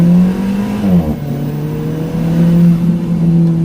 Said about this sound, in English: I could hear the turbo spool up and blow off valves release air.